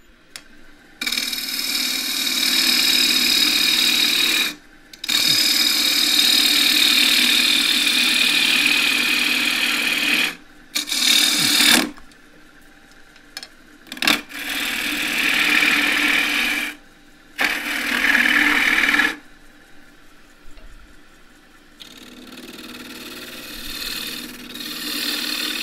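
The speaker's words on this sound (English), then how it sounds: "I'm going to be using the quarter inch spindle gouge again" A quarter-inch spindle gouge cuts wood on a running lathe while a cross-grain box is turned, long bursts of hissing, scraping cutting broken by several short pauses, close and steady.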